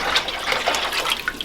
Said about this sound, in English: Make sure I have enough water in there.